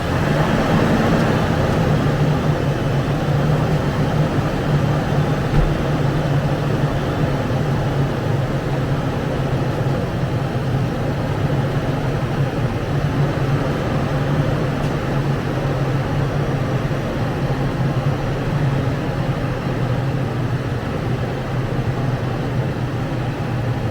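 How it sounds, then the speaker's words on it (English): A Toyota 4Runner fitted with oversized tires runs at a steady idle, its engine giving a constant low hum and broad noise throughout with no distinct changes. "let's fire this thing up, start turning the wheel"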